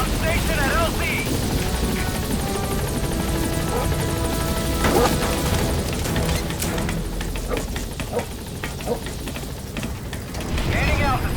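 In the video game Metal Gear Solid V, a helicopter arrives at a landing zone, its rotor thumping loudly and steadily, mixed with crashing gunfire and explosions.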